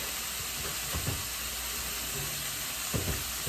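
Pork chops frying in a pan, a steady sizzling hiss with a couple of soft clunks from the pan, no talking.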